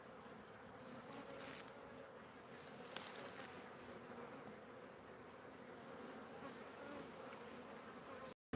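Honeybees buzz inside a hive that has lost its queen, a faint, steady, continuous hum of many worker bees with a few brief louder passes.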